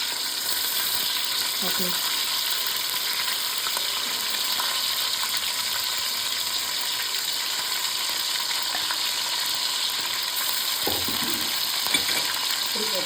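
Spice paste for an Andhra fish curry fries in hot oil, a loud, dense sizzle running unbroken and close throughout, with a brief word spoken over it.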